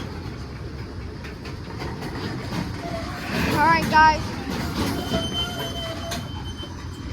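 An Amtrak train moving through a station, a steady rumble of rolling cars with a brief screech of squealing wheels in the middle, heard from fairly close, with a short spoken remark at the start.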